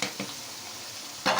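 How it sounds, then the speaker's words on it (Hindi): Boiled chickpeas frying in a pan give a soft, steady hiss, with brief stirring scrapes at the start and a louder one at the end. "तो अब इसके अंदर चने डालते हैं जो बॉईल किए हुए।"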